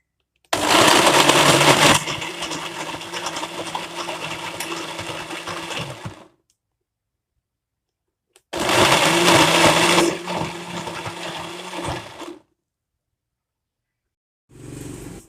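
Electric blender whirring as it purées carrot, ginger and a glass of water, two loud bursts of several seconds each separated by silence, the motor pitch dropping as the blend smooths, then a short final pulse.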